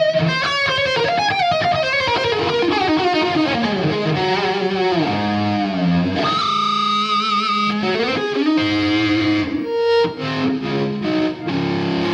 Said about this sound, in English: Then I'll kick in the distortion pedal.